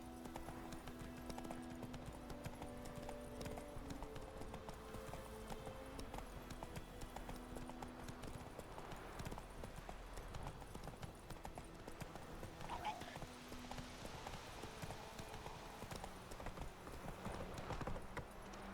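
Roach, Geralt's horse in The Witcher 3, clip-clops at a steady walking rhythm under a dense, continuous backdrop of game music and ambience.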